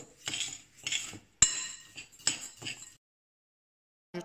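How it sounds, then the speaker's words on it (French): Rice being stirred with spices in a pot for a homemade fragrant rice, giving a few close scraping, clinking strokes of a utensil against the pot, then a pause and one last brief stroke. "Vous allez ensuite pouvoir remuer tout votre mélange pour que votre riz puisse vraiment s'imprégner de toutes ces épices."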